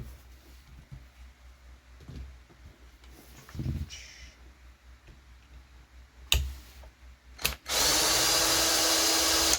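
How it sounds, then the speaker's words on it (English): A cordless electric drill, used on a Losi 22S RC car during a mid-motor conversion teardown, whirs in a sustained loud run near the end after scattered clicks and short bursts of handling noise. "I'm going to go grab my electric drill, and I'll start it back up"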